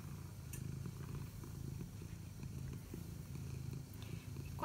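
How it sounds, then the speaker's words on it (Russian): A cat purrs softly and steadily up close, a low rhythmic rumbling pulse that continues evenly with no voices over it. "Кот мурлыкает."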